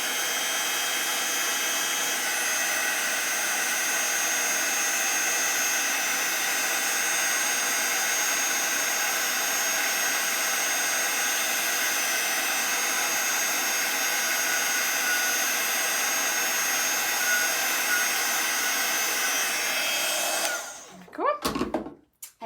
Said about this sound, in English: then moving the heat tool over the image